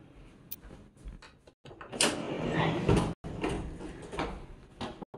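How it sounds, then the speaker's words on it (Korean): Bathroom door in a Novotel Ambassador Seoul Yongsan Dragon City twin hotel room swinging shut, a close, fairly loud sliding thud and latch click amid faint room noise. "이 화장실을 다시 문을 닫으면은"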